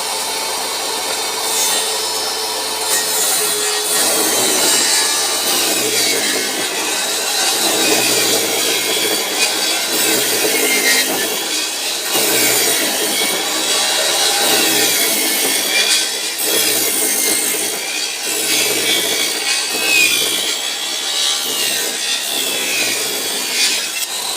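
A machine saw cuts steadily through wood to make corner trim. The rasping cut is loud, close and continuous, with no talking.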